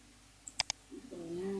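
A few quick computer keyboard key clicks, two or three sharp taps close together, followed by a brief murmured voice.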